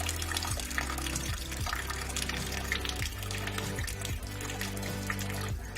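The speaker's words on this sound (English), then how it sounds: "the siphon will now break and water will no longer be drained from the ballast tank" Water drains from a ballast tank through the siphon of a TOPS gate, a steady continuous rushing and splashing flow that holds at even loudness throughout without any break.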